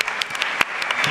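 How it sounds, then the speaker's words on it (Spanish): Brief burst of audience clapping after a university talk, a short run of sharp, scattered claps heard close. "Aplauso para Dante."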